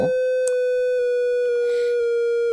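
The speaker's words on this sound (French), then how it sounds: "ça c'est la sirène, une fois, ça monte, ça descend" A synthesized siren tone, a steady pure note near 600 Hz with faint harmonics, holds and gently dips across the clip, sounding alone with a couple of faint clicks.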